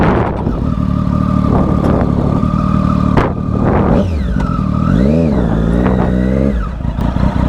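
A Triumph Daytona 675R motorcycle with an SC Project exhaust idles loud and close, its deep engine rumble swelling through a couple of throttle blips before settling back to a steady idle.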